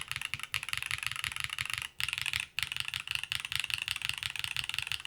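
Rapid, steady typing on a Velora TKL mechanical keyboard, close and clear, with brief pauses between bursts of clacky keystrokes.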